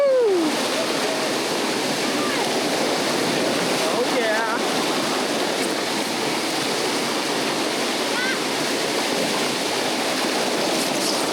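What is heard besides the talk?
white water rapids on the Nantahala River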